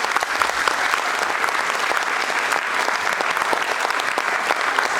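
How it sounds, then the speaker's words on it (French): Steady, dense applause from a crowd at a French children's song event, sustained at an even level throughout with no break. "vous pouvez l'applaudir"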